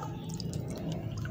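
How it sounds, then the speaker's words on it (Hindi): Water pours into sugar being made into syrup for a Bengali sweet, a soft, faint trickle and splash with small drip-like plinks, close and quiet. "4 प्याली हम ये वाले मेजरमेंट के नाप के पानी डालेंगे।"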